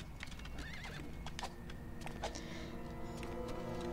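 A horse in the video game LEGO Indiana Jones 2 gives a quick, high whinny and snorts over hoof clip-clops, all fairly quiet with game sounds continuing underneath.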